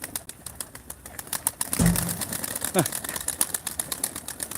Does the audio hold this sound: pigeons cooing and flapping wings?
yes